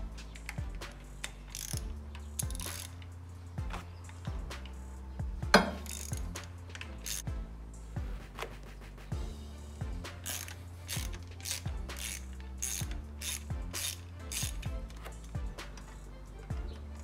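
A ratchet wrench with a T30 socket loosening two screws on the high pressure fuel pump of a BMW N20 engine, steady clicking pawl strokes in repeated bursts, close and clear with no talking.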